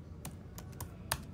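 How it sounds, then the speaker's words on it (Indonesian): Four sharp keystrokes tapped on a keyboard at an uneven pace, close and distinct over a low background hum. "Ngetik yang kalem kenapa?"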